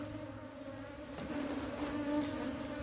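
Honeybees hum steadily around a hive frame as the colony takes to a new box, a dense close drone that swells slightly partway through.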